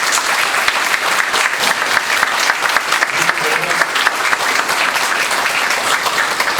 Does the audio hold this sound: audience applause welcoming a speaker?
yes